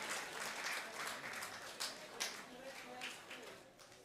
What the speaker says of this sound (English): Can we give big hands of applause to the group?